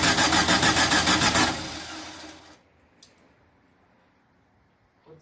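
A 2332cc engine just after carb cleaning cranks in a fast rhythmic chug for about a second and a half, then catches briefly before dying away into near silence, with a few faint clicks after.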